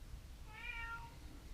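A house cat lets out a single drawn-out meow, clear and fairly close against a quiet room background.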